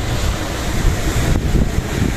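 Sea waves wash onto the sandy beach at Moulay Bouzerktoune as a loud, continuous broadband roar, heavily mixed with gusting wind buffeting the microphone, and no one speaks.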